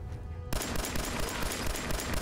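A sudden burst of rapid gunfire erupts in Fallout 4 after a brief quiet moment, then continues as a loud, dense, continuous rattle.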